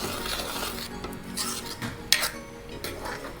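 Ragda being stirred with chopped coriander and lemon juice for pani puri, a spoon scraping and clinking against the pot in a steady rhythm of soft strokes, close and alone.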